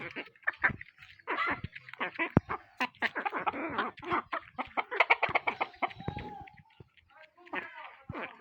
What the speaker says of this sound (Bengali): মাল্টি কালারের মুরগি একটা